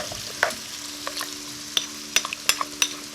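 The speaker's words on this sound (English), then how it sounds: "the washed borlotti beans. Stir them into the mix" Washed borlotti beans are stirred into a tomato soup mix in a pot, with a spoon clicking sharply against the sides in scattered, close taps over a soft, steady sizzle and no voices.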